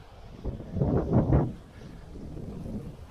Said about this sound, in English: Nice breezy day.